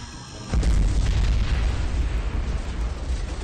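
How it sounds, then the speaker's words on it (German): A bomb blows up in a fan-made animation: one loud, deep boom bursts in after a short quiet lead-in, then a long, heavy rumble fills the rest of the clip with no talk over it. "Ja, die Bombe hat ordentlich geknallt."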